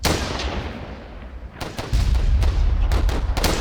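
Rapid gunfire in the video game Warfare, a dense burst of sharp cracks followed by a louder sustained volley of repeated shots with heavy low rumble.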